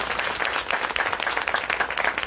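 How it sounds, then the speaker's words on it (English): Dense applause from a crowd at a political action and networking mixer, steady and fairly close for a couple of seconds with no talking. "deserves a round of applause"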